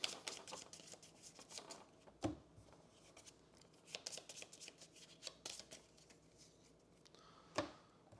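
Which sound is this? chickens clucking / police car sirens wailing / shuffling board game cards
shuffling board game cards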